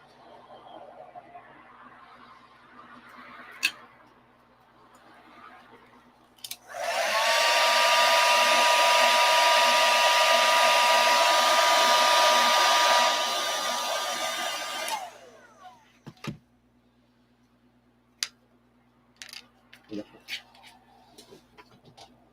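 A hair dryer switches on and blows with a steady, loud whir for about eight seconds, drying polyfill stuffing, before cutting off, with faint clicks and handling noises around it.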